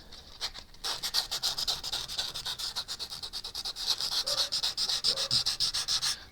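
Hand sanding along the grain of a wooden guitar neck, heard as a close, rhythmic series of scratchy rubbing strokes, one after another in a steady back-and-forth pattern.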